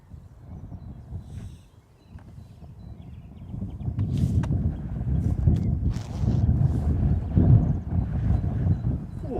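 Gusty wind at Manchester Airport buffets the microphone in low rumbling surges, building after a brief lull and staying loud and steady outdoors, with faint distant sounds underneath.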